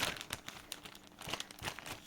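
A plastic packaging bag for a Spanish Llorens articulated doll crinkles up close in quick repeated bursts of crackling, with no talking.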